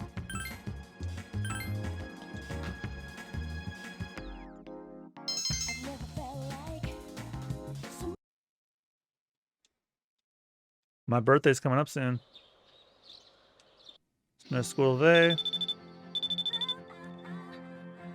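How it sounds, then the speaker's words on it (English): Phone ringing in Persona 3 Portable, a repeating electronic ringtone that comes in short beeping bursts between stretches of game music and silence, with talk heard in places. "Your phone's ringing."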